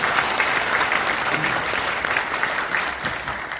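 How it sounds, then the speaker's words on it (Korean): Audience applause at a prayer breakfast held in a National Assembly conference hall, a steady dense wash of clapping from a large room, continuous and fairly loud for the whole stretch. "여러분 뜨거운 박수 부탁드립니다"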